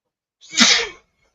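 A single loud, close human sneeze, one sharp burst lasting about half a second and then silence, heard during a casual evening chat.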